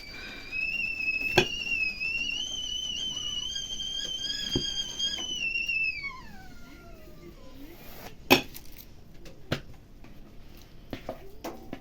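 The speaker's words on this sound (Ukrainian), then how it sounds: "Чайник свистить у нас." A kettle whistles with a sustained, shrill two-tone note that bends downward and fades out, followed by scattered clicks and clatter.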